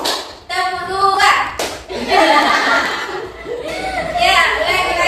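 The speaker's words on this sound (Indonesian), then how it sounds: "Tepuk tangan dua." A group claps hands twice in quick bursts amid children's voices and chatter in a classroom, with a teacher speaking in between.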